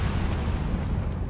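The Incendio fire spell being cast in the video game Hogwarts Legacy, a short, loud whooshing burst of flame with a rough fiery roar lasting just over a second.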